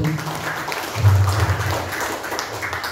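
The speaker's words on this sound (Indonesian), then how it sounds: "Aplaus, tepuk tangan baru." An audience claps at a PGRI Magelang teachers' association gathering, a steady wash of mid-distance applause lasting a few seconds with a low hum underneath.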